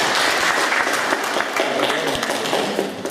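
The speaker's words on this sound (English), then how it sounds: "Give him a round of applause." Audience applauding at a talk on paths to success, steady dense clapping from a crowd that holds for about three seconds at a constant level.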